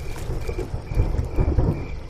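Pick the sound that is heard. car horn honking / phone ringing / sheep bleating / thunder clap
thunder clap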